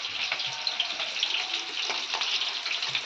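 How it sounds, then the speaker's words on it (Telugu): Pieces of masala-coated fish frying in hot oil, a steady dense sizzle with small crackling pops, close and fairly loud throughout, with no one talking. "మరి చేపలు అయితే ఎలా నూనెలో ఎలా కాలుతున్నాయో"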